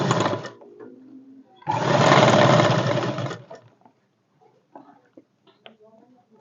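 A sewing machine stitches a folded hem in two bursts, a brief one at the start and a louder steady whirr of about two seconds, followed by quiet clicks of fabric handling.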